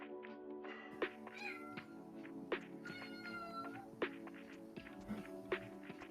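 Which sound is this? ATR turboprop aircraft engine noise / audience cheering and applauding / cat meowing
cat meowing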